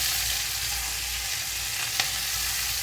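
Green chillies drop into hot oil already cooking ginger and garlic for a Nepali pickle, giving a loud, dense, continuous sizzle close by with one brief sharp crackle.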